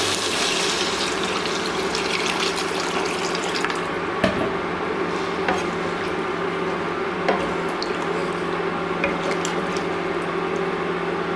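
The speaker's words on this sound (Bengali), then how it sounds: "এর মধ্যে এবার দিয়ে দেব জল।" Water is poured into a pan of potatoes and spice mixture, producing a steady, loud, hissing sizzle with occasional soft clicks and bubbling that carries through to the end.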